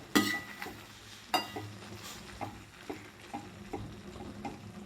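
Spoon stirring dry cluster bean (gavar) curry with chopped coriander in a pan, giving scraping clinks and soft sizzles with a few sharper knocks against the metal, close and moderately quiet.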